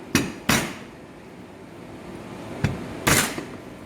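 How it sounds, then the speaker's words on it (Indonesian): A knife flattening and finely chopping ingredients for fuyunghai on a board: four sharp, loud thuds in two quick pairs with a quiet pause between, no talking. "kemudian kita cincang halus."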